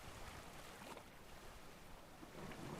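A small boat in A Short Hike cuts across water with a soft continuous wash and hiss of wake and wind, quiet and steady, with no talk over it.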